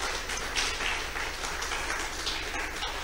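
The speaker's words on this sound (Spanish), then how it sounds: "Dele palmas al Señor y alábelo." A church congregation claps their hands together in praise, a dense, continuous patter of many palms from a large group, steady and fairly loud throughout with no break.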